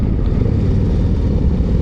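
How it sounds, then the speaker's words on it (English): A Harley-Davidson CVO Road Glide idles with a quiet exhaust, giving a steady, low, even rumble close by with no voices over it. "with a quiet exhaust that I actually love."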